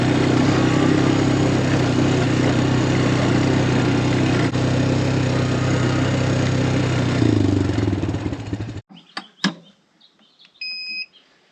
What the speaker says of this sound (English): I'm gonna hop on the four-wheeler